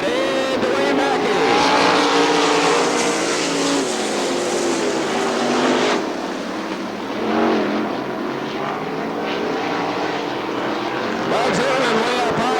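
410 sprint cars race at Crystal Motor Speedway in Crystal, Michigan, in 1999: a loud, continuous roar of open-wheel racing engines that swells and dips as the cars sweep past close by.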